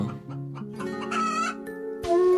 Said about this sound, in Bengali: তার একটা ছোট্ট মুরগির খামার ছিল